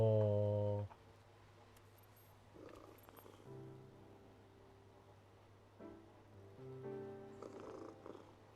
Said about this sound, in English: Let me pet my cat.